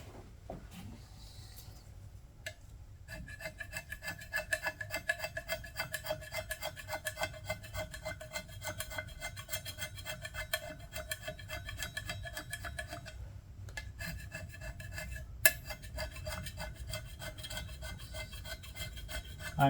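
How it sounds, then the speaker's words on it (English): A scraper blade is dragged by hand across the metal spacer of a Grizzly G0519 milling machine, a close, gritty rasp repeating in rapid rhythmic strokes with a few brief pauses and no talking. "I thought I'm gonna show you how the scraping goes."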